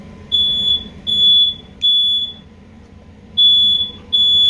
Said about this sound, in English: Oh, that's our smoke detector.